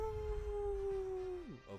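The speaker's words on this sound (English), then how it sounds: "wolves" A long, steady wolf howl rises in the distance, holding one sustained tone for over a second before sliding downward. Shorter, higher canine calls follow at the end, all faint and far off with no talking.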